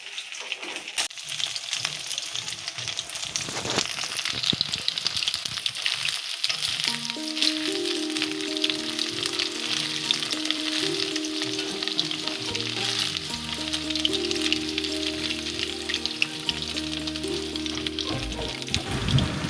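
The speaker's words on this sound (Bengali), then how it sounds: "আবার তো চিলি চিকেনের মাংসটা ভাজা হয়ে গিয়েছে ভালো করে" Chilli chicken meat frying in a pan for a fried-rice and chilli-chicken meal, with a steady close sizzle throughout and a sustained musical tone rising over it in the second half; no one speaks.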